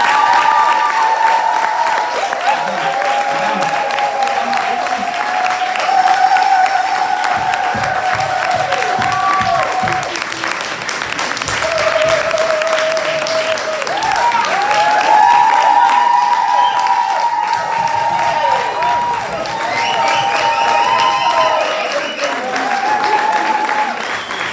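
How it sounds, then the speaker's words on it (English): Audience giving a big round of applause at an event, loud sustained clapping with cheers and whoops mixed in, voices calling out over the crowd throughout. "I think we should all give a big round of applause to"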